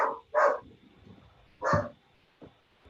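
Dog barking in a few sharp, loud, close barks with pauses between them, the last one shorter and fainter, with no voices.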